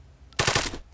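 A short automatic gunfire burst from Arma 3, a rapid run of four or five loud shots lasting about a third of a second, then a brief decaying tail.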